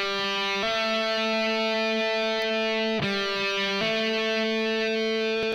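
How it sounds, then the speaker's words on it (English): Electric guitar hammering on from an open string to a fretted note, sounded as sustained notes with a few clear pitch steps, played alone with a slightly distorted tone. "Okay, so that's hammering on to a fretted note from an open string."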